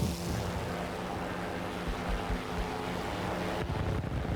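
P-36G fighter's piston engine in War Thunder roars steadily under a propeller drone, with a low rumbling tone that holds throughout and swells slightly near the end as the throttle opens.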